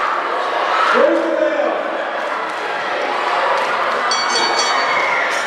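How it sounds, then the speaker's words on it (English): A hometown crowd in Walhalla cheers for Dr. Silva at a boxing-style event, a broad sustained roar of many voices at moderate distance, with a bell ringing near the end. "the whole town is here cheering on Dr. Silva"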